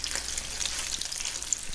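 Crab cakes fry in shallow oil in a pan, a brief steady crackling sizzle heard close up with tiny pops and no voices.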